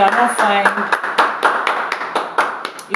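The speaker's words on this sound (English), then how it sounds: "let's clap for ourselves" A small group claps for themselves in a string of sharp, fairly quick hand claps, close and loud, with speech running alongside.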